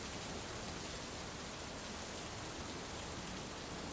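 Steady rain falling outdoors on a hillside beside a parked car, a dense, even hiss of drops that holds constant throughout without a break.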